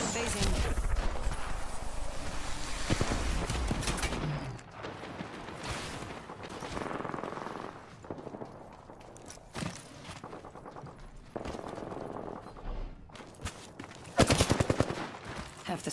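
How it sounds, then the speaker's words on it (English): Gunfire in an Apex Legends fight: repeated bursts of shots, some loud and close, others more distant, spread through the stretch with people talking over them. "Getting shot at."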